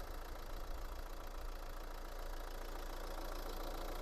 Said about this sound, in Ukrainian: двигунчик працює